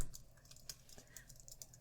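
Computer keyboard typing at a Linux terminal, a string of irregular light clicks and key taps over about two seconds, close and fairly quiet, with no talking.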